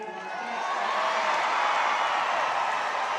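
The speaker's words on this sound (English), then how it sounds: "The crowd erupts after it was an unsuccessful challenge" Volleyball arena crowd in a professional match roars and cheers steadily, swelling and holding loud, with scattered whoops and claps.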